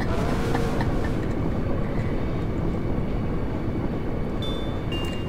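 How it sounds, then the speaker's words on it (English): Steady, dense low rumble of a moving train in Final Fantasy VIII, constant and loud throughout with faint higher mechanical tones near the end, no voices. "There was no damage to the train from that minor vibration."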